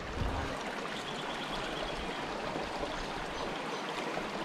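A little creek beside a bush walk at Marrinup Falls, running a bit fuller after rain, flows in a constant nearby wash of water with light bubbling and no talking.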